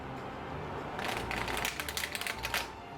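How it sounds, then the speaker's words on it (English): Oracle cards shuffled by hand give a soft, rapid flurry of papery riffling and light taps, quiet and close, starting after a second of near silence. "can we shuffle this in hand?"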